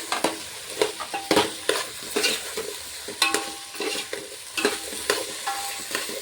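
Tomato and potato pieces for khichdi frying in a pan, a soft steady sizzle punctuated by repeated sharp scraping and knocking strokes of a spoon stirring the pieces, close and without talk.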